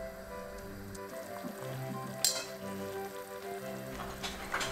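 Red peppers and garlic sizzle steadily in a pan of oil with vinegar and salt, a continuous frying crackle with soft pops and a couple of sharper spits over a faint background hum.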